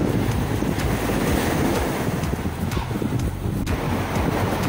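Sea waves washing along a shoreline where crabs are hunted, heard as a steady broadband wash of surf mixed with wind buffeting the microphone, continuous and fairly loud with no talking.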